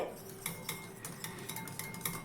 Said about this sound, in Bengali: জলটা দিয়ে খুব ভালো করে মিশিয়ে নিতে হবে।